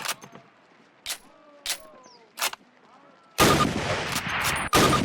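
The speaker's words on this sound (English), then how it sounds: "Now fire 2 rounds at your target while aiming down your sight." Springfield rifle shots in Call of Duty training, several sharp single cracks spaced apart with echoing tails, followed by a louder burst of heavy gunfire.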